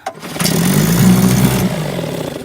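A 1957 Evinrude 7.5 outboard motor starts up, catching abruptly and running loud and close for about a second before its rough note eases back.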